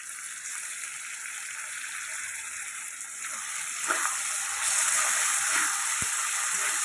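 Spice paste goes into a hot pan with potatoes for a Bengali dish of green jackfruit and prawns, giving a steady, close hiss of sizzling oil that grows louder and fuller halfway through.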